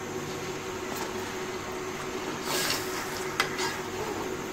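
Ground ginger, garlic and tomato paste frying in ghee, a steady soft sizzle with occasional stirring scrapes and a brief louder clatter midway, no talking.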